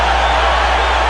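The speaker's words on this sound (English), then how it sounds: "The crowd applauds" Steady arena crowd roar at a Roy Jones Jr vs Clinton Woods boxing match, a dense continuous wash of applause and cheering filling the whole moment, loud and close with no distinct pauses.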